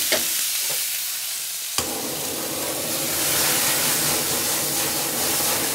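Zucchini slices fry hard in a hot pan, a loud, dense sizzle and hiss that flares up sharply after a brief quieter start and keeps roaring close by without talk.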